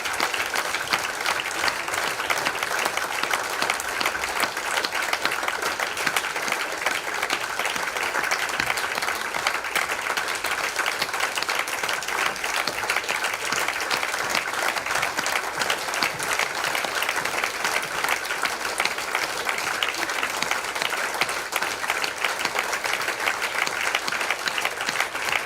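Sustained applause from the Indie Awards 2021 audience, a dense, even wash of many hands clapping that holds steady and loud for about twenty-five seconds.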